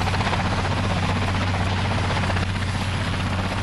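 A helicopter drones overhead with fast rhythmic rotor thumping, loud and constant throughout, no voices.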